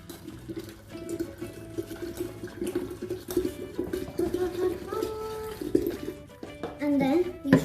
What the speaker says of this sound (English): Now, pour all the water back.